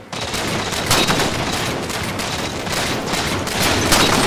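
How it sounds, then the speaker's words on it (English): Dense gunfire in the video game Halo 4, overlapping bursts and single shots crackling continuously at close range with occasional heavier hits. "Oh shit, everyone's shooting me."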